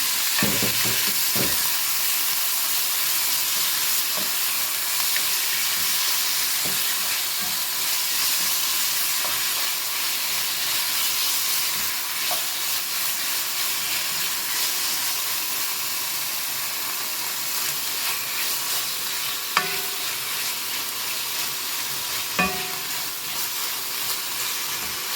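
Pieces of chicken breast for a samosa filling fry in a hot pan with a loud, constant sizzle and hiss, broken by occasional scraping clicks as a spatula stirs them through.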